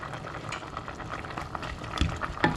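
Thai dried khilek curry bubbles at a steady boil with coriander stems and grilled beef added, a continuous close simmering hiss with a couple of sharper splashes near the end.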